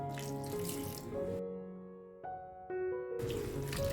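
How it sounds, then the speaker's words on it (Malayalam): Water is poured into a bowl of egg mixture for egg manchurian, giving a ringing, tonal trickle that starts, pauses briefly, then resumes, close by with no speech. "ഇതിലേക്ക് കുറച്ച് വെള്ളം ഒഴിച്ചു കൊടുക്കാം"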